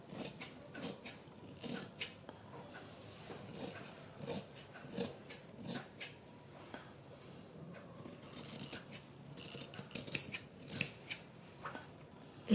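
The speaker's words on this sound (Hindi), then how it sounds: "सिलाई लगाने के बाद हम थोड़ा बाहर से अपने गले की कटिंग करते हैं" Scissors snip through fabric while shaping a blouse neckline, a run of short, crisp cuts in an uneven rhythm, close and fairly quiet, with no talking.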